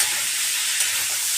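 Tomatoes frying in a pan with chillies, giving a steady, loud, close hiss of sizzling that holds evenly without pause.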